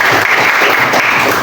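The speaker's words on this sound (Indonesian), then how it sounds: "Tepuk tangan dulu buat semuanya." Students in a classroom break into a burst of loud, dense applause, a brief close clatter of many clapping hands.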